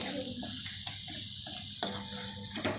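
Masala sautéing in a pan for soybean mince gives a steady, soft sizzle with a few faint stirring scrapes, heard alone and fairly quiet.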